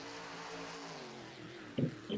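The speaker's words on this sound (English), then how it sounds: "Cars are being staged right now. They're pulling up to the line." Race cars on a stadium track idle with a steady droning engine hum at the start line, then two sharp, louder bursts of acceleration break out at the end.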